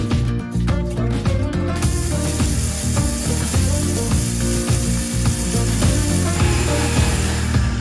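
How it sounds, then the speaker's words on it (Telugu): A kitchen mixer grinder grinding peanuts, running loud and close, a continuous rattling whir of chopping and grinding that holds steady throughout. "ఒక మిక్సర్ జార్లోకి వేసుకుని బాగా గ్రైండ్ చేసుకోవాలి"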